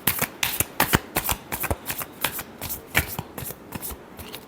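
Tarot cards being shuffled by hand, a quick series of crisp riffling flutters and taps repeating close up, with no talk.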